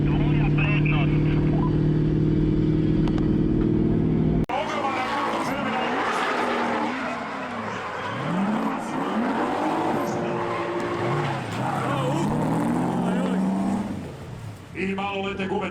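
A BMW E36 drifting at the Željava drift event gives a loud engine roar and wavering tire squeal. Voices talk over it, and a steady engine drone before it cuts to the squealing run.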